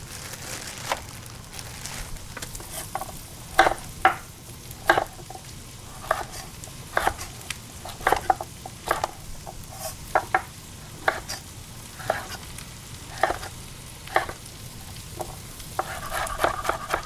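Mushrooms and carrots frying in a pan, a soft continuous sizzle broken by regular sharp scrapes and clacks of stirring, close and fairly quiet, no one talking.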